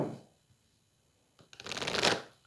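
Tarot cards shuffled close up, a soft rush of riffling cards building to a dense flutter that swells and then fades, after a brief quiet pause.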